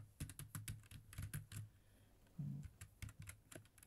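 Keys clatter on a computer keyboard in quick irregular bursts with short pauses, close and fairly quiet, with no voice over the clicks.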